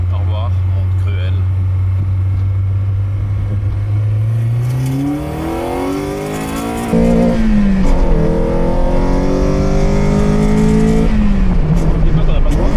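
A Peugeot 205 Rallye engine drones steadily, then climbs in pitch as the car accelerates through rising revs, shifts up and pulls again, loud and close from inside. People talk over it.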